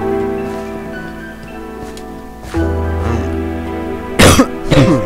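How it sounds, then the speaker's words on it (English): A couple of short coughs from a gamer playing Minecraft, the first softer and the second a sharp, louder double burst near the end, over a steady tonal game soundtrack. "I got a little cough."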